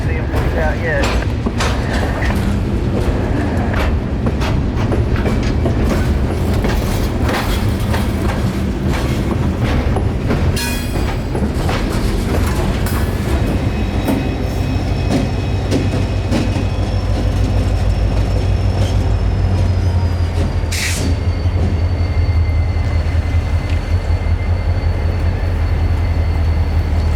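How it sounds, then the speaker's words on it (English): A long freight train rolls steadily past, heading from the main line onto a spur track near an overpass, with continuous loud rumble and wheel clatter, occasional faint squeal tones, and light voices underneath. "As the locomotive is about to enter the spur track from the main line, the rear of the train is almost already to the overpass"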